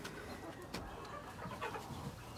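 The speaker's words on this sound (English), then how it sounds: "we think there might be 31 chickens out here" Free-range backyard chickens, around thirty birds, clucking outdoors near their coop, with a few short close calls over a steady low background hum of movement and ambient noise.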